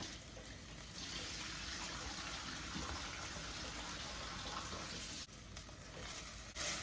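Water runs steadily from a tap into a pot for several seconds, a continuous splashing gush that cuts off briefly and then starts again.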